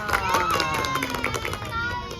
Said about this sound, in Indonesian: Tepuk tangan untuk Amel dan teman-teman.